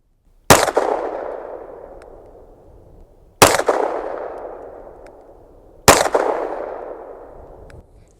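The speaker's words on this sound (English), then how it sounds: "you should be able to hear that click of the trigger reset after the gun comes back down after the bang" Three loud, sharp pistol shots spaced a few seconds apart, each ringing out with a long decay, with faint mechanical trigger-reset clicks in between.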